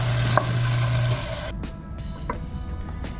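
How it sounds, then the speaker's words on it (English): Ingredients sauté in a pan for a keto breakfast casserole, a steady close sizzle that drops quieter halfway through, with a few light knocks and scrapes and no voices. "So we're only going to saute that for a couple of minutes."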